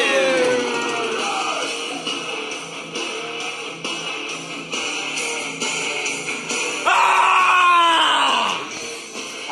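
A wrestler makes his entrance at a wrestling show with a loud, drawn-out scream, heard over entrance music and crowd noise, and the yell swells again near the end.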